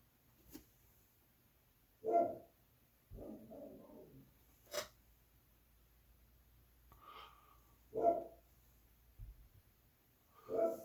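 A pet dog barking indoors during a tabletop miniatures unboxing: several short, sharp barks and snorts spaced irregularly over several seconds, fairly close, with quiet gaps between them.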